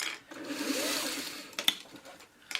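A sewing machine stitches down a string basket, running with a steady whirring hum for over a second before stopping, followed by a couple of sharp clicks and handling noises nearby.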